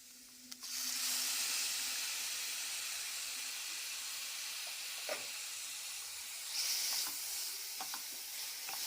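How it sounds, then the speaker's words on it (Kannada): Ingredients frying in oil in a pan for a Kannada cucumber-yogurt curry, a steady loud sizzle that starts after a brief pause and runs throughout, with a few stirring clinks near the end. "ಒಂದು ನಿಮಿಷ ಇದನ್ನು ಎಣ್ಣೆಯಲ್ಲಿ ಫ್ರೈ ಮಾಡ್ಕೊಂಡ್ಮೇಲೆ ಈಗ ಇದಕ್ಕೆ ಹಸಿಕಾಯಿನ ಹಾಕ್ಕೊಳ್ತೇನೆ"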